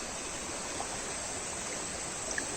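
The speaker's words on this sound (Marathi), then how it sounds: "नदीवर पाणी बघा किती" A river in the Konkan region flows in a steady, dense rush that stays even and loud throughout, with no voices.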